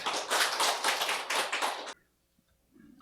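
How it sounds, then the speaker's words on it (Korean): A church congregation applauds together after a sermon, a dense, loud burst of many hands clapping for about two seconds before stopping abruptly into near silence. "우리 하나님께 박수 드려요"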